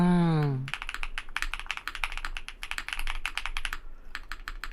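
Fast, steady typing on a newly built Neo75 mechanical keyboard, close and crisp, with dense clusters of clacks and a brief pause near the end; a short voice sound opens before the keys.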